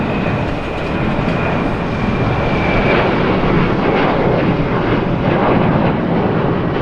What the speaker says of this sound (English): Looks like the American 787 Dreamliner is taxiing out. Catch that as it takes off.